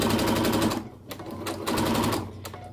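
A sewing machine runs in quick bursts while stitching a piped seam, its rapid needle chatter starting and stopping several times with brief pauses between runs, close and clear.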